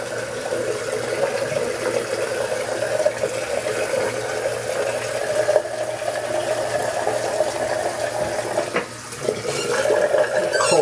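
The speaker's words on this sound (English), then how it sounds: "Cold water rinse." Cold water runs steadily from a tap for rinsing during a shave, a continuous close rushing stream with a brief dip near the end, no talking.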